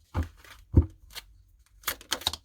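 Tarot cards are shuffled by hand in short, separate bursts of papery riffling and slapping, close and moderately quiet, with brief pauses between the bursts.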